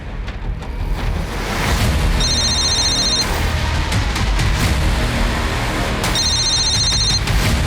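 A phone rings unanswered in two short high trilling bursts, faint under a loud, steady rushing noise.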